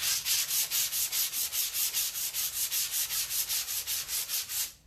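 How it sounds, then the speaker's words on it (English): Steady rhythmic scratchy rubbing strokes, about four per second, close and fairly quiet, as sandpaper is worked back and forth with the grain over painted fabric upholstery. "I'm sanding with the grain of the fabric."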